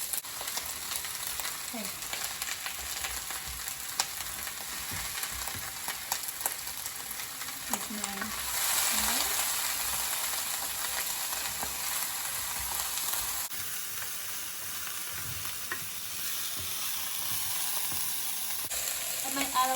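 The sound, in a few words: onion, pepper, carrots, celery and garlic sautéing in olive oil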